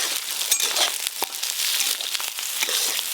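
Chopped onion frying in hot oil with whole cumin, dried chillies and bay leaves, giving a steady close sizzle and crackle with sharp pops throughout.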